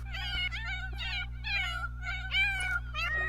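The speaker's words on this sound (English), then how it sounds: "They just meow all day wanting food, but they won't eat the food I leave after them." Several cats meowing repeatedly for food in a household life-simulation video game, a run of clear close-up meows and drawn-out caterwauls over a steady low background hum, with no talking.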